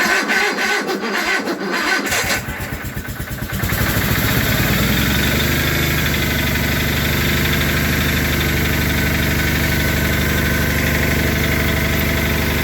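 An Onan or Perkins engine fires up from cold with a stuttering crank and then settles into a loud, steady, slightly knocking idle that continues without talk.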